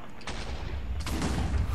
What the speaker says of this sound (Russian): Че взрывается-то опять?